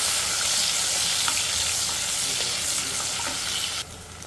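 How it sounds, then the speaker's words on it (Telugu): Onions frying in oil in a pot with cumin, a bay leaf and green chilli for vegetable rice: a loud, steady, close sizzle and hiss that drops off abruptly near the end. "ఆనియన్ వేసుకొని ఫ్రై చేసుకోవాలి"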